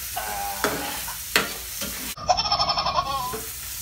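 Tomatoes tumble into a hot frying pan and are stirred, giving a run of close scraping strokes, then a burst of rapid rhythmic sizzling and clatter in the pan.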